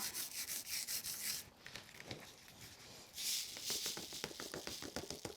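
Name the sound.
burnishing ice snow foil onto a sticky card sheet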